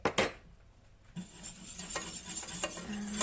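Flour being whisked into melted butter in a pan for mac and cheese roux, a close, steady scraping stir with light metal clinks against the pan, a couple of sharper knocks at the start.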